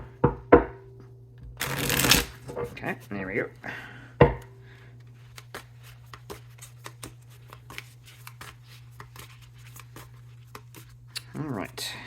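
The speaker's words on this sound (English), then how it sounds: "Let's do one more good shuffle." Tarot cards are riffled and shuffled in a few quick bursts, close up, with a person speaking briefly over the soft rustling.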